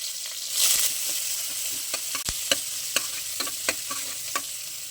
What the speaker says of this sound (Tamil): வெங்காயம் வதங்கிச்சுங்க, தக்காளி போட்டுக்கிறேன்.